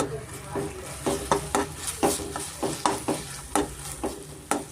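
A spoon stirs masala in a hot pan for potato fries manchurian, giving rhythmic scraping strokes over a steady sizzle, close up, with a voice talking over it.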